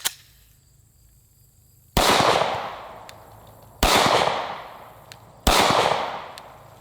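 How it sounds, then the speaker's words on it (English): A 9mm Glock 17 pistol fires at a coconut outdoors, three loud, sharp reports spaced a couple of seconds apart, each ringing out in a fading echo after a faint click at the start. "the 9mm clearly took care of this coconut. Blew straight through it and out the other side,"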